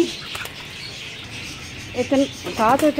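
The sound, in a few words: pigeons in a cage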